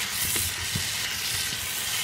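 Vegetables for achards stirred in a hot pan, a steady close sizzle and hiss with soft scraping and clacking stir strokes scattered throughout.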